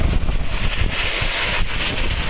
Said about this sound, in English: Okay, the wind slowed down a little bit.